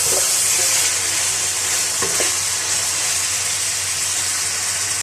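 Mutton and chopped tomatoes fry loudly in a pot for balti gosht, a dense, constant sizzle close up, with a couple of brief stirring knocks partway through and no talking.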